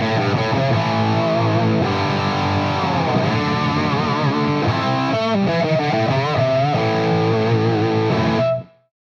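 Ibanez Thermion electric guitar played through the bridge pickup on a distortion channel with a British-style voice, loud sustained chords and bending riffs ringing for several seconds before cutting off abruptly.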